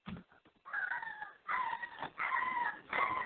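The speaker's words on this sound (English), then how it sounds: "Sounds like your dog got injured" A dog gives repeated high, drawn-out yelps and whines as if hurt, four sustained cries in quick succession, thin and somewhat distant as though heard over a phone line.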